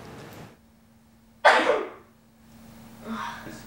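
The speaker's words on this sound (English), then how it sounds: "Somebody's playing with the dog and the kid sneezes." A child's single sharp sneeze bursts out after a brief quiet breath, followed by a softer exhale or sniff.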